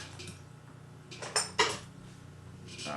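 Small metal screws being placed and fitted into the throttle body of a Pontiac Tri-power 2GC carburetor, a few light clinks and scrapes in quick succession, close and fairly quiet over a low steady hum.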